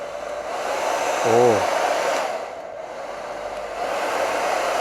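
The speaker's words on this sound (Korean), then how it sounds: "일단 한번 드라이를 꽂아 놓고 한번 작동을 시켜 볼게요." A steady, loud whooshing hum of a hair dryer powered through a Tesla Model Y V2L adapter, running continuously throughout, with a brief low tonal whine near the start.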